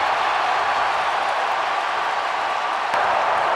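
Over 65,000 football fans at LaVell Edwards Stadium roaring during a Baylor at BYU college game, a loud, continuous wash of crowd noise with no breaks.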